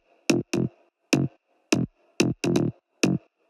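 Solo synth bass layer made from a sine wave two octaves down blended with an electric guitar wave, playing short punchy notes in a syncopated pattern with clean silences between hits, dry and close, no talking.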